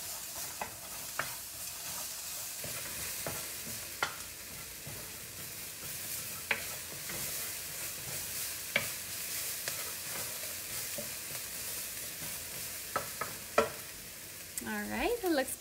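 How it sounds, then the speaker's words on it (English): Food fries in a pan for a nourishing green bowl, making a continuous close sizzle broken by repeated clicks and scrapes as a utensil stirs it, with no one speaking. "So I'm gonna give it a stir."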